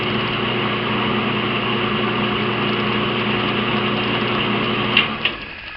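A brake lathe motor runs at high speed with a steady, loud, whining hum, constant throughout with a couple of brief knocks near the end.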